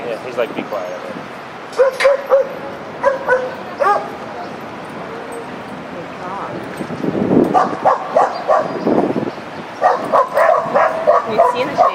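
A dog barks and yips repeatedly in clustered bursts, near and loud, on a Buenos Aires street while people talk in between.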